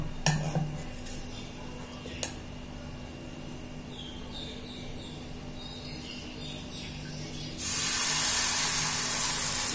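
Spoon clinks against a hot tawa as ghavne rice batter is poured on, followed after a quiet stretch by a sudden steady sizzling hiss that continues to the end.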